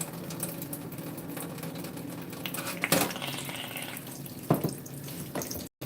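Cold tap water runs quietly and steadily from a faucet as a coil is rinsed under it, with a couple of short louder splashes and clatters near the sink.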